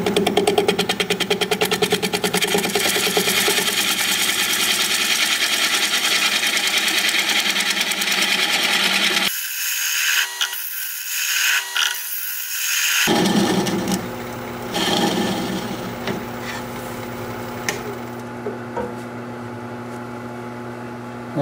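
Sharp gouge cutting an oak burl spinning on a wood lathe at about 580 rpm, a steady close whirring hum with scraping cut noise that drops out for a few seconds midway, then resumes.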